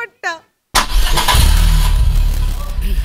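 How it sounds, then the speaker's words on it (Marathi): A car engine cranks and catches, then idles steadily with a low, loud rumble right after a brief spoken voice. "हा गाडी सुरू कर."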